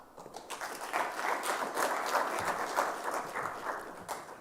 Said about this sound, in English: Please, let's clap again for Philip.